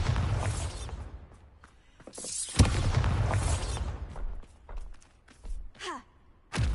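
A Bombarda explosion spell goes off in the wizarding game Hogwarts Legacy, one sharp blast with a short rumbling tail, then quieter game effects and a brief whooshing sweep.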